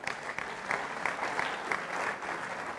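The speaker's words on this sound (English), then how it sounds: "Can we give them a big round of applause?" An audience at a book launch gives sustained applause, an even, moderately loud patter of many hands with regular stronger claps running through it and no speech.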